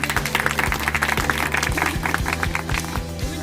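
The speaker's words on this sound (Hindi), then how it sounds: "आओ फिर जोरदार ताली बजाओ।" A church congregation applauds loudly during a missionary worship gathering, dense clapping over a steady low hum and repeating thumps from music or amplification.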